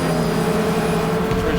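A Porsche race car in GTR 2 roars past with a steady, loud engine drone that rises in pitch, the sound of close track racing with other cars nearby.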